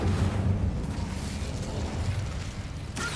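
The Incendio fire spell in the video game Hogwarts Legacy goes off as a steady rumbling, crackling roar of flame, loud and continuous across the moment.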